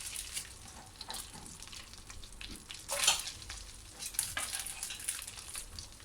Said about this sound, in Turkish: Tereyağımızı kızartıyoruz üzerine sarımsak